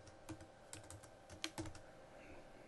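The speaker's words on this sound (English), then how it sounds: "if I wanna work right through autocomplete, I just keep typing" Someone types quickly on a computer keyboard during Excel data entry. The key clicks come in short irregular bursts, close and fairly quiet, with a brief louder cluster midway and no talking.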